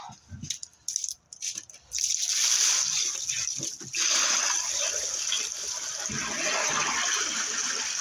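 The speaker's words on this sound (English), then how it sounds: "I've got garbage can full of water, and I'm going to dump it out so that we get a rush of water" A garbage can full of water is dumped out in one go, releasing a loud, sustained rush of water that surges and spreads over rocks and sediment, following a few brief clatters.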